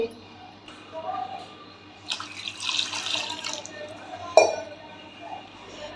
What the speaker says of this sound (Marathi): आता या डब्यामध्येही पाणी ओतून घेते